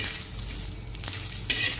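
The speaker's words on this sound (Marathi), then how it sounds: "छान खमंग भाजून घेते" Ingredients roast in a pan with garlic, giving a dense sizzle. Brief scrapes of a spoon come near the end, over a low background rumble.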